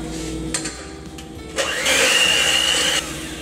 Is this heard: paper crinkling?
no